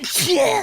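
A single quick sneeze bursts out, close and sharp, mixed in with a brief spoken word from someone nearby.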